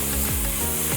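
Chopped tomatoes sizzle and fry steadily in a hot pan with oil while cooking mushroom biryani, a loud, continuous crackle with faint stirring scrapes and no talk.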